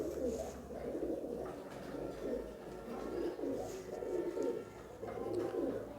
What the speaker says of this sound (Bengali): আলহামদুলিল্লাহ আপনাদের দয়ায় আমার মোটামুটি অনেক কবুতর আছে।